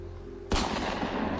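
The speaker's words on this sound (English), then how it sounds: "directed the gun to Sheriff Bill again. Bang" A single sharp gunshot blast in a dramatic story scene, loud and sudden, with a broad reverberant tail fading out over the next second, no voices.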